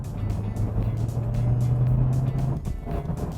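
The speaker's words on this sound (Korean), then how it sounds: "웅 소리가 스포츠 모드가 오히려 더 크네요" 2025 Hyundai Sonata Hybrid driving in sport mode, a steady low hum with road and cabin noise, holding even for a few seconds before easing slightly.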